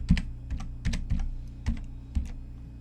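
Quick bursts of keystrokes on a computer keyboard as a password is typed into a Windows secure text editor, about six close, crisp clicks spaced irregularly over a low steady hum, with no talking.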